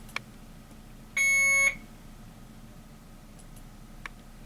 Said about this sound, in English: Here you hear the alarm and you see the alarm.